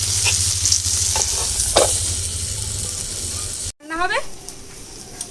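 Fish pieces wrapped in turmeric and chilli leaves fry in a pan, a steady broadband sizzle with a low hum for several seconds, then a brief cut and a rising voice-like sweep over quieter frying.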